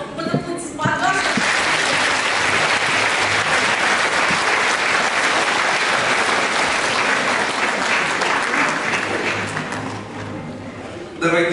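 Studio audience applause at a televised evening show in Ulyanovsk, a dense, loud burst of clapping that swells in quickly, holds steady for around ten seconds, then eases briefly before rising again at the end.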